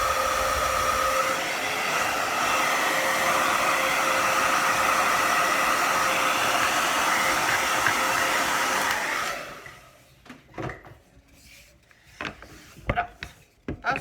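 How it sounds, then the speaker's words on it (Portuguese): An air blower blasts dust off a sanded wooden piece, a loud continuous rushing whoosh lasting about nine seconds before cutting off, followed by scattered knocks and handling sounds. "Faz o soprador mais um pouquinho, tirar a poeirinha."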